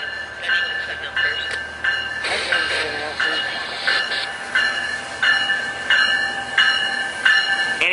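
A northbound Metrolink commuter train moves through Oceanside Transit Center, with rhythmic wheel clatter and high metallic squeals against a steady rolling rumble, a radio-like voice and station noise mixed in.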